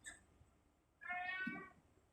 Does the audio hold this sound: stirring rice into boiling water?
no